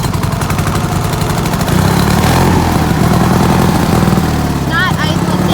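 A mud mower built from a lawn mower and fitted with a 16 hp Briggs Vanguard V-twin runs at elevated revs without idling down, a loud steady engine drone with a slight roughening partway through.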